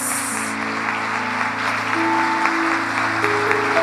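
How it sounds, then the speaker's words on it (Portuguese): A church congregation applauds during a Brazilian consecration service, steady sustained clapping blended with a held organ-like musical chord, moderately loud and continuous. "Uma salva de palmas a Jesus pela vida dos nossos pastores."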